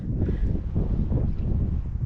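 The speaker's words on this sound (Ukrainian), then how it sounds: "Трошки боковий вітер нам заважає" Steady crosswind buffeting a microphone outdoors while fishing on the Desna River, a continuous low rumble with no voices.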